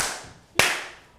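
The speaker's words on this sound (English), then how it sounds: "I'm going to clap here in case I decide that I need to" A lone hand clap rings out sharply once in a quiet room, a close, crisp smack followed by a short fading tail.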